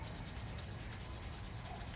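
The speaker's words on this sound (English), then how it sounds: "I'm going in the actual grooves here with the sandpaper" Sandpaper worked into the grooves of a Damascus steel knife blade, giving a continuous close, gritty rubbing hiss with no breaks.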